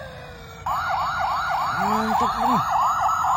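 A toy American police car siren wails in a fast repeating up-and-down cycle, loud and close, starting abruptly; someone briefly speaks over it.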